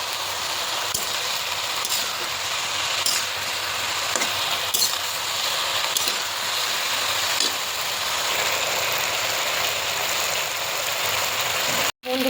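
Shredded cabbage fries in oil with turmeric and cumin powder, a steady, crackling sizzle like rain on a surface, continuous and fairly close, with a brief dropout just before the end.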